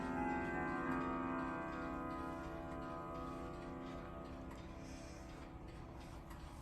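A Gazo Angelino grandfather clock with a Lear pendulum ticks quietly and evenly, a soft, regular tick-tock heard close up against low background hum.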